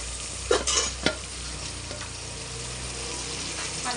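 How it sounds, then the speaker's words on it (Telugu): Mutton pieces stirred with oil in a pressure cooker, a steady sizzle and frying hiss under a few scraping clinks of the spoon against the pot near the start. "వేసేసుకొని మొత్తం అంతా కలిపేయాలండి మొత్తము ఆయిల్ అంతా ముక్కలకి కలిసేలాగా"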